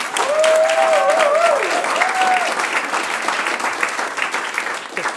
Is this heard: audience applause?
yes